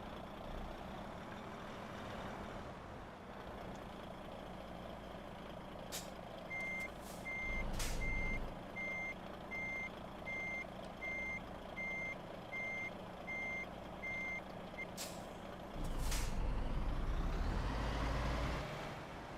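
A heavy truck in Euro Truck Simulator 2 backs two trailers into place, its reversing alarm beeping in a steady, evenly spaced series over a low idling engine rumble, with sharp air-brake hisses breaking in now and then.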